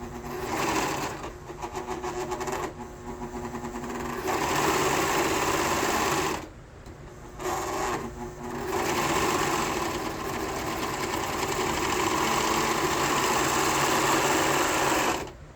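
A serger sewing machine stitches fabric with a light press on the treadle, a loud steady motor whir with rapid needle chatter running nearly throughout, slowing briefly in two short pauses.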